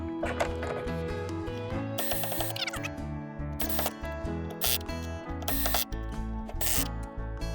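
Ratchet wrench clicking in quick bursts while tightening the mounting hardware of a Power-Pole Micro anchor on a Hobie Pro Angler kayak, close and crisp with short pauses between strokes.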